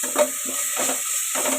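Ginger garlic paste frying for chicken biryani, with a soft sizzle and a few quick stirring scrapes in a short burst close to the pan, and nobody speaking.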